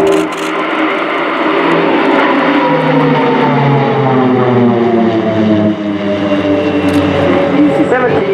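Nine Swiss Air Force Pilatus PC-7 propeller aircraft flying in diamond formation at an airshow (RIAT 2018), a loud continuous droning engine roar with shifting tones as they pass, with a commentator talking over it.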